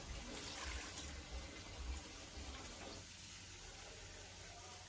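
Water poured from a mug over washed rice in a cooking pot: a soft, steady splashing pour lasting about three seconds, then fading to a quiet trickle.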